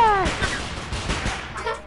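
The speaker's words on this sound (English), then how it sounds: "Firework!" Fireworks in the VR video game The Playroom: a rapid burst of crackling pops and bangs with whistling streaks at the start, dense and loud for about two seconds.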